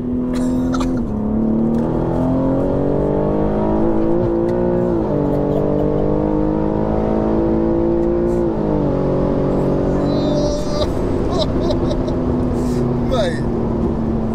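A stage 2 tuned 700 bhp G80 BMW M3 engine roars and revs hard, its pitch climbing through gear changes while people talk over the noise inside the cabin.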